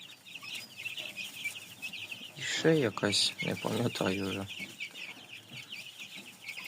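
Young chicks moved from a brooder to a floor pen cluck and cheep steadily, with brief bursts of louder fowl calls; a person speaks briefly partway through.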